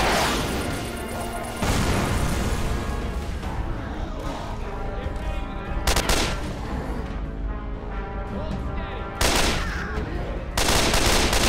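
Gunfire in Left 4 Dead 2 on Xbox One, loud booming shots separated by seconds over a constant roar of game noise and music.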